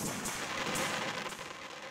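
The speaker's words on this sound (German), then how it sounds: "wie ihr diese Explosionen hier findet, die Raketensounds, hier einmal nochmal zum Schluss" Firework rocket explosions from the game Minecraft burst in quick succession, several broad crackling booms overlapping loudly with no talk.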